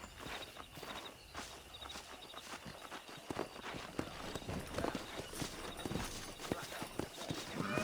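Horse hooves clip-clop in a steady walking rhythm across Red Dead Redemption game terrain, close and clear against a light ambient background, with no talking during the steps.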